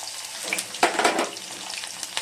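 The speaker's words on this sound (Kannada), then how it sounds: "ಜೀರಿಗೆ ಸ್ವಲ್ಪ ಗೋಲ್ಡನ್ ಕಲರ್ ಬಂದ ತಕ್ಷಣ ಬೆಳ್ಳುಳ್ಳಿ" Cumin and garlic frying in oil along with chana dal and urad dal for menthya pudi rice, a close, moderately loud crackling sizzle that swells briefly in the middle as ingredients go in, with no voices.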